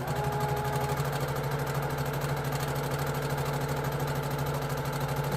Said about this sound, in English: Is that sewing machine too loud, you guys?